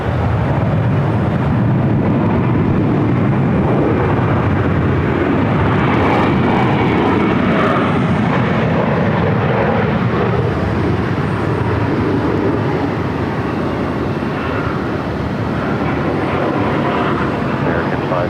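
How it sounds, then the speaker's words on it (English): An American Airlines Airbus A320 arrives at Phoenix airport with a loud, steady jet roar that fills the whole stretch and barely changes in level. "This is American Airlines Flight 540 coming in from Spokane on an Airbus A320."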